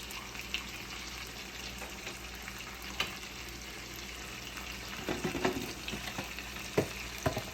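A spatula stirs beef stew in a pan, giving a soft continuous sizzle with scattered scrapes and light knocks that grow busier toward the end, with no speech.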